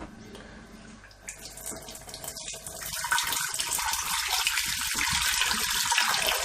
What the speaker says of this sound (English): give it a quick whiz round with the old water from the sink